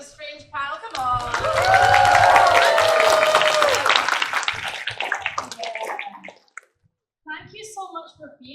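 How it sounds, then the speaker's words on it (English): Audience at an LA Comic Con panel for Life is Strange claps and cheers in a large hall, a sustained swell of applause that fades out, with a host talking over it. "let's have a round of applause for this Life is Strange panel"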